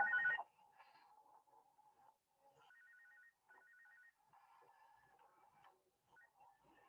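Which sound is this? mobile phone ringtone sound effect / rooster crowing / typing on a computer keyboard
mobile phone ringtone sound effect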